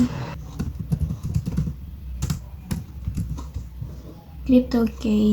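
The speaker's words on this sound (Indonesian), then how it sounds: "Kita ketikkan lagi komen crypto key" Keys tapped on a computer keyboard while a network command is entered for remote-access setup in Cisco Packet Tracer, bursts of close clicks in short runs with pauses, a voice talking over part of it.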